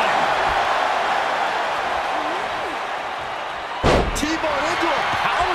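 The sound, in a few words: wrestling slam onto the mat in WWE 2K24 video game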